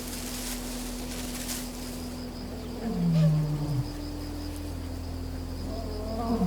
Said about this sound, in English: The roar of a male lion can be heard from nearly 5 miles away, a proud, powerful sound